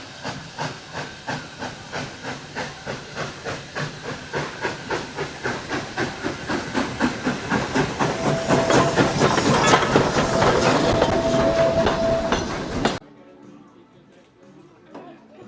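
Dollywood Railroad steam train running, rhythmic chuffing and hissing steam growing steadily louder and closer with clickety-clack, a brief whistle tone near the end before cutting to quiet background with faint voices.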